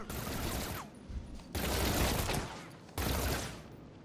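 Bursts of gunfire striking the player in Batman Arkham City, three loud rattling volleys separated by brief gaps, close and harsh with mechanical clatter between them.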